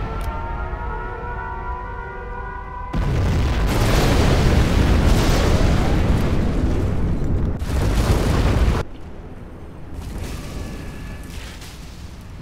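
A nuclear missile detonates in the real-time strategy game Command & Conquer Generals: a sudden, massive roaring blast that rumbles loudly and steadily for several seconds before dropping back to a quieter background rumble with a faint tone.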